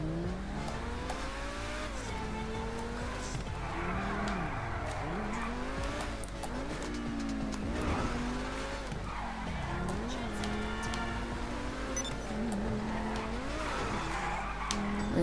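T20 supercar racing at speed in a video game, a continuous high-revving engine whine rising and falling through gear shifts with bursts of tire squeal and skidding, loud and steady throughout.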